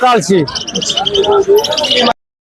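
Many small pet birds, including cockatiels and parakeets, chirp in quick, high twittering bursts at the Mirpur 11 bird market while a person speaks loudly close by.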